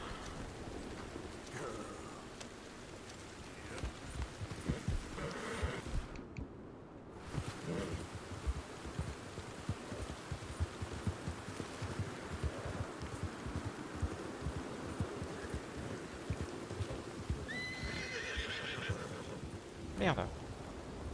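Horse hooves and neighing in the Red Dead Redemption 2 video game, with a whinny near the end over continuous background game sound, while a person talks throughout.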